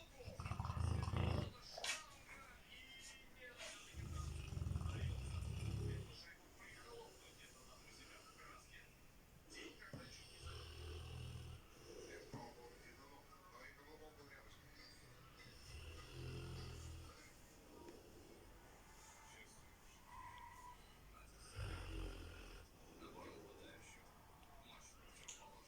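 A man snores in a series of low, rumbling breaths, with a louder burst early on and softer, regular snores after it. Quiet room noise fills the pauses.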